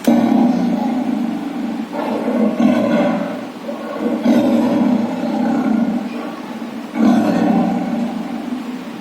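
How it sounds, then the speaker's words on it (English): A tiger roaring: loud, close, throaty roars and grunts repeating in long bursts for several seconds, with no other sounds around them. "This is tiger."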